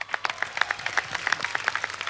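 A studio audience at a comedy talk show claps in brisk, closely spaced bursts, the applause lively and continuous throughout.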